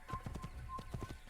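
A horse walks in the video game Assassin's Creed (2007), its hooves clip-clopping in a steady, close rhythm of soft thuds over a low game ambience.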